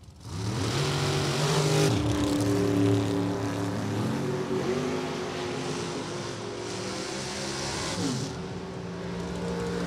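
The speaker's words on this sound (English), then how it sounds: "driving an American-built 598 cubic inch Chevrolet powered rear engine Super Contractor" An American-built, 598 cubic inch Chevrolet-powered, rear-engine Super Contractor drag racing car at a Joliet drag strip runs loud, its engine note rising and falling in repeated revving sweeps before settling into a sustained drone.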